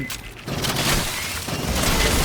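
Heavy explosions boom in Aliens Fireteam Elite, with loud blasts rising at intervals over a rumbling, noisy wash of combat sound, close and with no speech.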